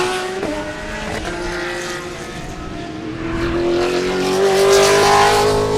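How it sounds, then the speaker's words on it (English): A race car at Sebring during the Love Bug Dash roars past, its engine note rising and sustained, loud and close, growing stronger toward the end over a steady crowd-and-track background. "Listen to that car,"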